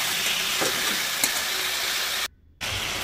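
Yogurt-marinated chicken pieces frying in a pan with whole cardamom, cloves, cinnamon and black peppercorns, a steady loud sizzle with a brief stir, cut off by a short silent gap before the sizzling resumes.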